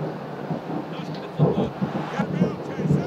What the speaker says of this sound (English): Now I know you guys heard that thunder.